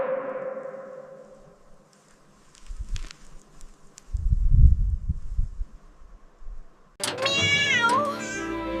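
A cartoon kitten stuck somewhere lets out a high, wavering meow near the end, loud and close, after quieter rustling and low thumping sounds.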